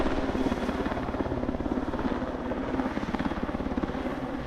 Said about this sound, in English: Here is a Sikorsky HO-5S-1, which was used as the United States Marines' primary medevac helicopter